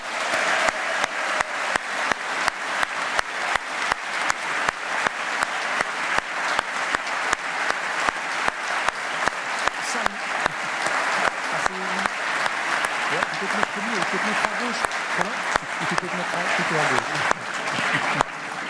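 An audience applauds Roland Colombin at a live event: sustained, dense clapping from a crowd that holds steady throughout, with a voice rising faintly beneath it toward the end.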